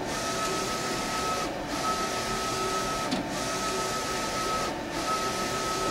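A cutting plotter with a 45-degree blade slices Solutions Clear material, a steady whirring motor hum and high tone broken by brief pauses as the head changes direction about every one and a half seconds.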